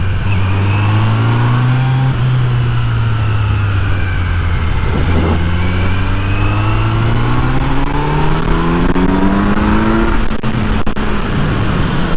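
A 2020 Kawasaki Z900 motorcycle engine winds up loud and close, rising in pitch through several gears with short breaks at each shift, heard alone without talk.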